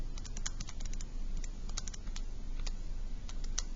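Quick bursts of small plastic key presses on a calculator as numbers are entered for a simple interest calculation, close and crisp in a quiet room with no talking.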